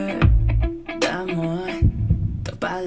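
Deep, muffled heartbeat thumps pulse low beneath a tonal musical bed in a track from an album, with the beats clearest near the start and again briefly later.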